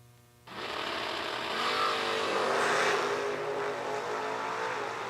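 Drag racing cars, a Fox Body Mustang and a Chevelle, launch at the track: a sudden loud roar kicks in after a moment of quiet and holds as a sustained, distant high-revving engine howl.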